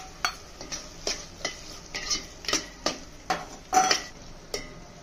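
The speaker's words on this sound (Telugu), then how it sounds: "మనం ప్రాన్స్ వేసేసి ఒకసారి అలా కలిపేద్దాం" Prawns tossed into a pan of softened tomato masala for a gongura prawn biryani, stirred in a series of about a dozen evenly spaced scraping strokes over a faint, steady sizzle, close and clear with no talking.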